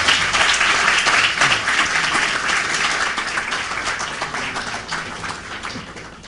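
A crowd at a university keynote lecture applauds warmly, the clapping loud at first and then gradually thinning and fading toward the end.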